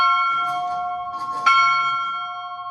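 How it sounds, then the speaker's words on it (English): Old Silverton school bell struck once and ringing out, a bright sustained metallic tone with a second strike partway through that renews the ring, loud and close in an indoor hall. "usually we let a kid, when they come in, ring the bell"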